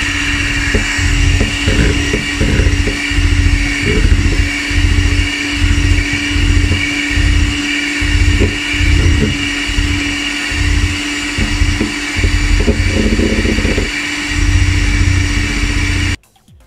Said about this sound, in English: then take my blender.